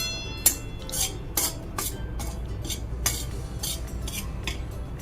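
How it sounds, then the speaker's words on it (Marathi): A spoon scrapes and clinks against a pan as semolina is stirred and roasted until golden for sweet shira, with several sharp metallic taps over a steady low background. "रवा खरपूस भाजणे"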